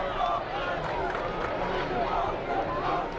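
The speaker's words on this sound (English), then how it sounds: "it sounds like the UT players are cheering on the offense" Broad crowd noise from a 1999 high school football game between U.T.H.S. of East Moline and Rock Island, Illinois, with players cheering on the offense, a steady mid-distance roar of voices holding level throughout.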